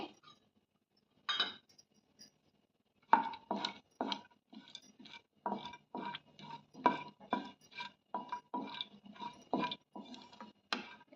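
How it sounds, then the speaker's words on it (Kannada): Dry nuts dropped and stirred into melted ghee in a pan for mango kesaribath, giving a run of light clinks and taps against the metal, sparse at first and then quick and irregular, close by with no talk. "ತುಪ್ಪ ಕರಗಿದೆ ಅದಕ್ಕೆ ಇವಾಗ ಡ್ರೈ ನಟ್ಸ್ ತೊಗೊಂಡಿದ್ವಲ್ವ ಅದನ್ನು ಹಾಕ್ತಾ ಇದ್ದೀನಿ"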